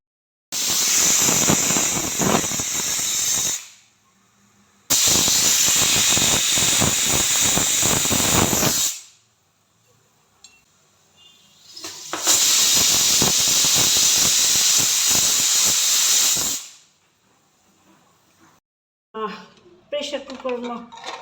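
A pressure cooker on a stove cooking yam curry releases loud bursts of hissing steam whistle, three long blasts of several seconds each separated by quiet gaps, with a brief voice at the end.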